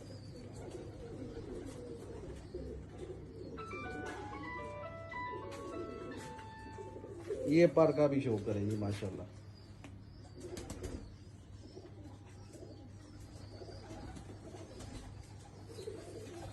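Flying pigeons of a young 19-number flock coo and flap their wings, with a loud burst of wing flapping midway. Brighter whistle-like tones come earlier, and someone talks over much of it.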